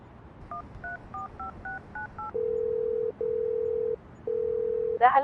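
A telephone keypad beeps out a quick run of dialing tones, then the line rings with three long, steady ringback tones separated by short pauses before a sharp noise at the end.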